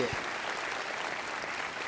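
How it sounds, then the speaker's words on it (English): Steady applause from a conference audience honoring David Barr, a dense even wash of clapping held at constant level for the full stretch with no voices on top. "let me get another round of applause for David"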